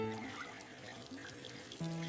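Warm water runs from a tap into a sink while dishes are washed, a soft, faint trickle that continues throughout under light tonal background sounds.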